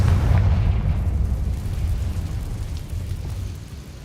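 A Confringo spell blast from Hogwarts Legacy erupts as a deep booming explosion, loudest at the start and then rumbling and fading gradually over several seconds, with no voices.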